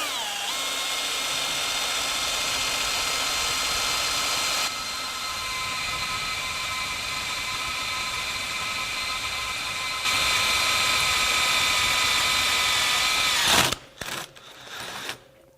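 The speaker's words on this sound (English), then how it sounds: "So we don't need anything other than chucking that hole cutter into the drill itself" A power drill fitted with a Holemaker annular hole cutter, lubricated with a little wax, bores through steel about a quarter inch thick, giving a steady, loud whining grind that shifts pitch partway and ends abruptly as the cutter breaks through.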